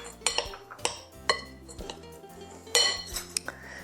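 Orange zest being stirred into a chocolate apricot candy mixture in a bowl, with a series of sharp utensil clinks and scrapes against the dish at an irregular rhythm, close and fairly loud, no talk.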